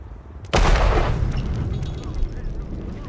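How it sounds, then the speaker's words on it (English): A bomb explodes in the Hitman video game, a sudden loud close blast after a brief quiet moment, followed by a long rumbling decay that fades over a few seconds. "That was not fireworks. That was a freaking bomb."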